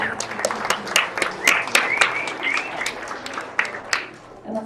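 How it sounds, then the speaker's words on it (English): Audience at a Star Knowledge gathering in Estes Park gives a round of applause, steady dense clapping with a few whoops, fairly close and filling the room before trailing off. "let's give Patricia Forbes a big round of applause"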